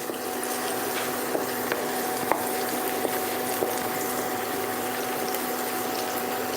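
Onions frying in a dry kadai already holding toasted cumin and dried chillies, producing a steady close sizzling hiss with faint crackles and no speech.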